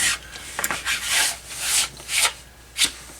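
Back-and-forth strokes of 220 grit sandpaper rub along a leather wallet edge, coming in five or six distinct scratchy passes with brief pauses between them, close and alone.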